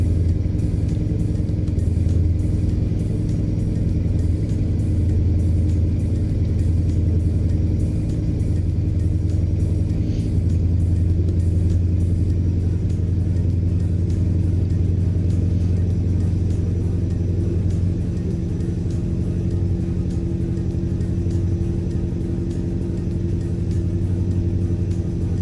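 A conventional hood truck in American Truck Simulator drives along with a steady, loud diesel drone and low engine rumble that holds nearly constant throughout, without any voices.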